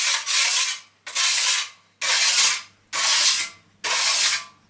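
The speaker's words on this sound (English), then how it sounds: "Run the length of the blade along the stone." A plastering trowel blade is rubbed along a sharpening stone sprayed with WD-40, five even rasping strokes about a second apart with brief pauses between, close and clear with no talk.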